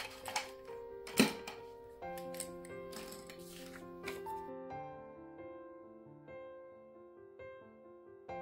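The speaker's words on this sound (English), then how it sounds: "Let's grab some little scissors to use" Crisp snipping clicks come in uneven bursts, with a sharper snip early on, set against soft background music with sustained tones.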